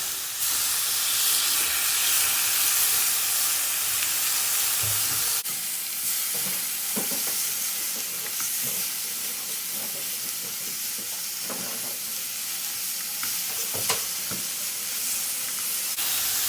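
Chicken sizzles and hisses on a hot grill pan, a steady crackling spatter with occasional sharp pops, close by and without talk.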